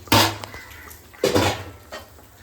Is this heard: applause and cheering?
no